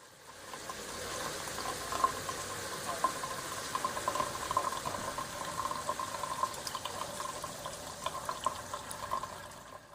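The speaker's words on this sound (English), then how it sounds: "let's get the counterflow working with some cold water running through it." Cold water running steadily through a homebrew counterflow wort chiller, a continuous bubbling, gurgling flow with small splashes, close and alone for the whole stretch.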